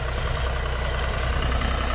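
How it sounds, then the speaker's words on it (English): A tractor engine runs steadily at a constant, moderately loud drone with a low rumble, working a food plot outdoors, with no voices. "on the tractor"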